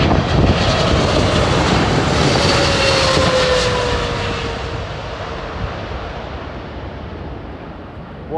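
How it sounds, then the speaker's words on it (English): A Qatar Airways airliner in special livery lands on runway 23 right at Manchester Airport, a loud, close, continuous engine roar with a falling whine that slowly fades as the aircraft rolls away in wind. "That is probably the messiest landing I've seen from a Qatar Airways plane"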